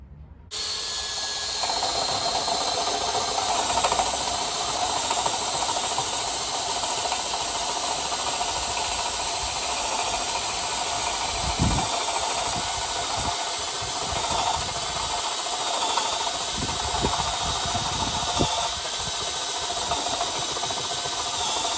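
A Makita drill driver in first speed bores with a 1.5-inch spade bit, a steady loud motor whine and grinding hiss running continuously, with occasional low thumps and bumps from the bit biting into the workpiece.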